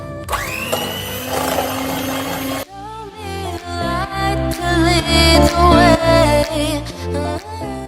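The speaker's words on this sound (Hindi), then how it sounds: "इसको मैं ये जो हैंड ब्लेंडर है इससे अच्छी तरह से ब्लेंड कर लूँगी" A loud electric hand blender whirs steadily, then pulses and churns with shifting pitch as it whips cream in a bowl, close and continuous.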